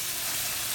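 Fish fillets frying in a pan for fish laab, a constant close hiss of sizzling oil, brief and loud, with no talk.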